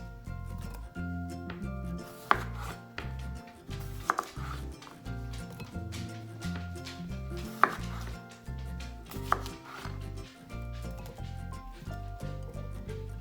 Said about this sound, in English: I'll quarter those and put them right on into the crock pot.